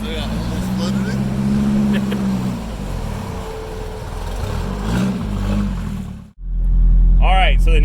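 A Nissan D21 pickup engine running and revving in swelling surges, loud and close, with a brief cutoff near the end before the low rumble returns and a voice speaks over it.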